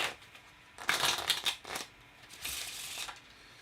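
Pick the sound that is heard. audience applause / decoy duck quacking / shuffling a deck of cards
shuffling a deck of cards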